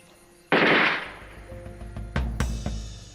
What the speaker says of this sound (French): Qu'est-ce qui a tiré, là?